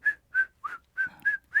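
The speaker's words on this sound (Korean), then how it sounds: "휘파람으로도" Six short, bright whistled notes in a quick, evenly spaced run trace a simple catchy melody, clear and close with nothing else heard.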